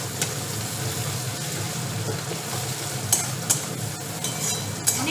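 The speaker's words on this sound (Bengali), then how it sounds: "এবার পেঁয়াজটা ভাজা হোক ততক্ষণ।" Chopped onions frying in a pan with a constant sizzle, and a few sharp spatula clacks against the pan near the end.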